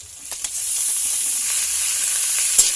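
Ground pork sizzles in a pan while ginisang ampalaya is cooked, a steady close hiss of frying that runs throughout, with a few brief stirring knocks near the start and end.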